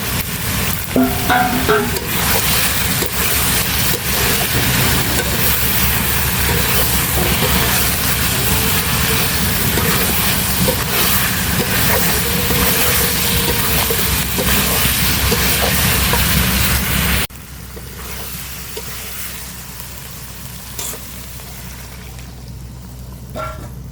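Hilsa fish sizzle and fry in spice paste in a pan, a loud steady crackling hiss that runs on continuously and then drops to a quieter simmer near the end.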